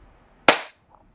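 An airsoft gun fires one sharp, close shot, a loud crack that stands out against near silence and then fades quickly.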